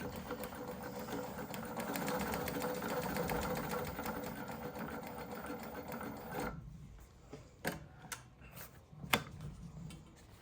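A ZUSUN CM-101-D hemming sewing machine stitches in a steady, close mechanical whir for about six seconds, then stops, leaving a few quiet clicks and knocks.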